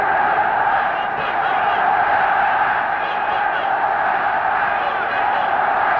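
A large football stadium crowd at a 1968 FA Cup match between West Bromwich Albion and Everton, a dense continuous roar and murmur of thousands of voices, steady and loud throughout.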